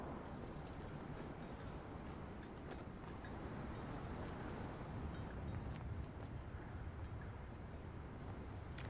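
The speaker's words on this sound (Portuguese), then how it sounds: "Nada além da ventania." Faint, steady wind gusting across open ground in the Call of Duty WWII video game, a low continuous rushing with no voices.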